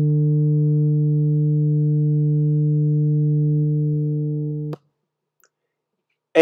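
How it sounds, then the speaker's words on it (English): A steady, loud 150 Hz test tone with audible harmonics hums unchanged for nearly five seconds, then cuts off abruptly into silence. "let's mute the 15 hertz and play what 150 hertz sounds like"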